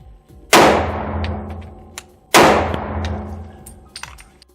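Two loud, sharp 9mm pistol shots from a Canik MC9LS firing Liberty Ultra Light ammunition, close by, each with a bright crack and a long decaying ring, about two seconds apart, with faint clinks afterward.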